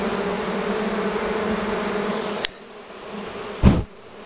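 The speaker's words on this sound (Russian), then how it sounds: "Ну пчелы на бакфеста похожи" A dense, steady hum of a large swarm of Buckfast honey bees fills the first half, then drops away to a quieter buzz, broken by a brief loud rustle near the end.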